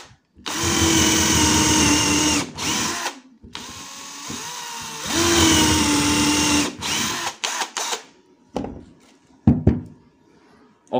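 NRT PRO DC340 cordless drill spinning freely with no load, two loud sustained whining runs of about two seconds each, then a string of short trigger bursts and clicks.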